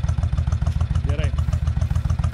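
A Suzuki Intruder 1500LC motorcycle idles with a steady, loud low-pitched burble and regular pulsing throb, close by, with a brief voice-like sweep partway through.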